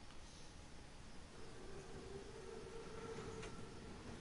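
The armored Panzerzug train in Call of Duty WWII rolls by with a steady low rumble and a faint squealing tone rising partway through, the noise continuous and fairly distant.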